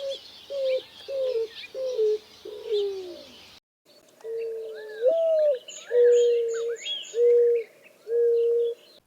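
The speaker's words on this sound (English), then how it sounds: "series of low cooing notes that drop in pitch" A backyard dove in Arizona gives a series of low cooing notes that drop in pitch, several clear, close, evenly spaced phrases with a short pause midway and faint chirps of other birds behind.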